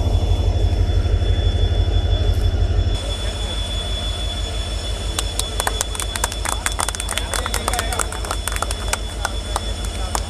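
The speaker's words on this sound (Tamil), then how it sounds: "அறந்தாங்கியில் இருந்து டிபார்ச்சர் ஆகி போயிட்டுருக்கோங்க." Pamban Express pulls out of Aranthangi station, a loud throbbing low drone that shifts partway through to rolling wheel noise with scattered sharp metallic squeals and clanks, close and continuous.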